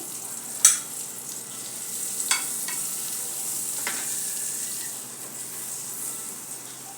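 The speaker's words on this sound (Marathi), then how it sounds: "आपल्याला पॅनमध्ये बटर घालायचे आहे आणि बटर बटरवर आपल्याला शेकून घ्यायचे आहे" Cut burger buns toasting in melted butter in a pan make a quiet, even sizzle, with a couple of sharp utensil taps near the start and a soft clink midway.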